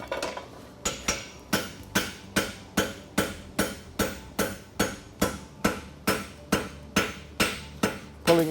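A blacksmith's hammer strikes a hot steel wedge in rapid, evenly spaced ringing blows, about fifteen or more in a row, with bright metallic clangs of the hammer on the anvil. Close, crisp and alone.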